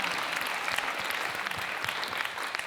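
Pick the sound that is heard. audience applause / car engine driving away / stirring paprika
audience applause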